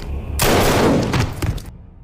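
A gunshot rings out in a tense war-film scene as a wounded sniper fires at an enemy in a village, a sudden loud burst with a rough, decaying tail that cuts off abruptly.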